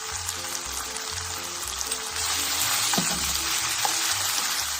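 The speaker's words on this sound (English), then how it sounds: "The pickled shallots are starting to cook nicely." Pickled shallots frying in a pan, a soft continuous sizzle with a few light clinks and stirring sounds, quiet and without voices.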